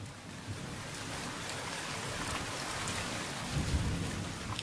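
Heavy monsoon rain in Arizona falling steadily as a dense hiss, with a low rumble of thunder swelling near the end; no voices.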